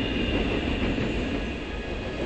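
Inside a train carriage, a steady rumble of wheels and a broad rolling hum go on without a break, loud and even.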